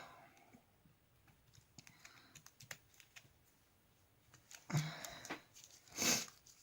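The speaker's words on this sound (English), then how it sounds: "Oh, please excuse this sniffing." Sniffing through a congested nose indoors, with a couple of sharp, close intakes standing out near the end among faint soft clicks and rustles.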